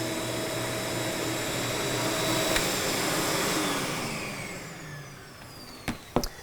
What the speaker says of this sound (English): I've got 3 passes with just solution and only 1 pass with the squeegee to pick it up